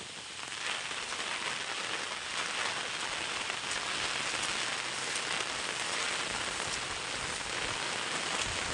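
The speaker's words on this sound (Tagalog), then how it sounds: "Grabe lakas ng ulan." Heavy rain pounds a surface in a steady, dense roar while strong wind gusts through a storm, a continuous loud wash with no voices.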